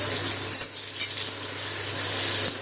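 Bay leaves and whole cumin seeds fry in hot oil for a dal tempering, giving a steady close sizzle with a few light metallic clinks of a spoon against the pan.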